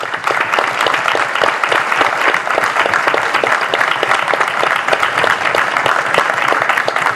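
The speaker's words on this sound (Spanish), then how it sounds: "la compañera Elian Capone, para la que pido un fuerte aplauso" An audience at a political collective's gathering breaks into loud, dense applause, a continuous wash of many hands clapping without letup and with no talk over it.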